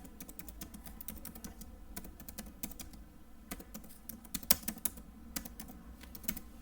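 Someone types code on a computer keyboard in quick, uneven bursts of close key clicks, with a few louder taps near the end and no voice over them.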